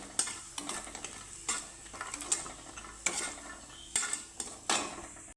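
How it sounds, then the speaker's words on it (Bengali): Lentil dumplings (dal bori) fry in hot mustard oil, with a steady sizzle broken by repeated scraping stirs of a utensil against the pan, close and clear, with no voices. "তো প্রথমে আমি ডালের বড়িটাকে প্রথমে ভেজে নেব লাল করে"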